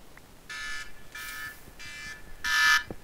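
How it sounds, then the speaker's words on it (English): An electronic timer alarm goes off in four rapid beeping bursts about half a second apart, the last one loudest, with no talking. "as you can hear, that is the timer"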